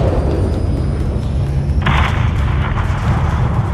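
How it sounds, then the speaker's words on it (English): A missile strike levels a hangar in the video game Call of Duty: Modern Warfare 3. A loud, heavy rumble runs throughout, with a sharper burst of blast noise midway through. "have your man drop a missile on that hangar"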